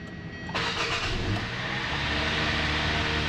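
A Hyundai Sonata with a GDI four-cylinder engine cranks briefly and fires up, then settles into a steady, close idle rumble.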